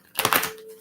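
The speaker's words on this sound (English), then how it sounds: "one more deck to shuffle for you" Tarot cards being shuffled, a quick burst of crisp riffling clicks that tails off into a faint lingering tone.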